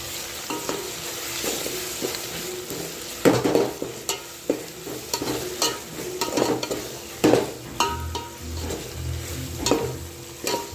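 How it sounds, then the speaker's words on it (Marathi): Ginger-garlic paste sautéed with fried onions in a pan for a quick biryani gives a steady sizzle, with repeated stirring scrapes and clinks of a spoon against the pan, close and fairly loud, with no talking. "आता आपण याच्यात जे वाटण काढलं होतं ते घालून घेऊ किलो असं आणि हे पण मस्त परतून घ्यायचं आहे आपल्याला"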